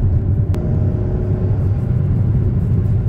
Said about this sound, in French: Le bruit est très sympa, on entend l'admission, on entend les pop and bangs aussi.